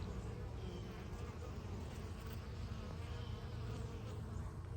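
Honeybees buzzing steadily around a backyard garden with blueberries, tomatoes, okra, squash and plums, a dense continuous drone from many insects close by, with no talking.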